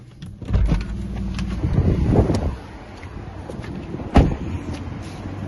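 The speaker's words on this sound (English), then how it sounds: "I'm going to turn the car off." A Mazda CX-5 2.0 SKYACTIV-G petrol automatic with 25,168 miles is switched off: a low idle rumble and some handling noise fade out, then one sharp click or thump follows over a quiet background.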